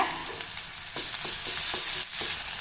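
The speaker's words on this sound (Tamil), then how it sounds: "பெரிய வெங்காயம் கொஞ்சம் வதங்கி வரட்டுங்க" Onions sizzle and fry in a hot pan, a steady crackling hiss broken by a few scraping stirs, close up with no talking.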